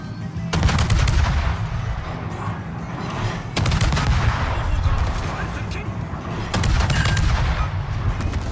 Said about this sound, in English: we're getting some shots into the Italian destroyer, should be able to finish him off